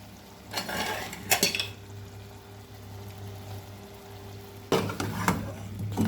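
Potatoes tip into a pot of chicken curry in a home kitchen, making two short clattering bursts of pan and utensil noise, then a quiet stretch with a low hum before more clatter at the end.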